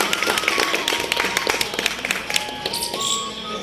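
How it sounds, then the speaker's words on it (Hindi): A crowd at a Karni Sena committee meeting claps for invited guests with uneven, close-sounding taps. A faint tonal sound runs underneath the clapping. "जोरदार तालियां इनके बीच में"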